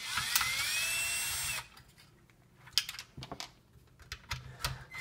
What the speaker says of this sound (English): The next step is remove the two screws.